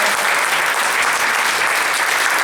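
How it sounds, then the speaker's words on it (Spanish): Steady, full applause from a church congregation in Irapuato fills the room, many hands clapping at once in a loud, unbroken wash with no pauses. "Dale un aplauso al Señor, por favor"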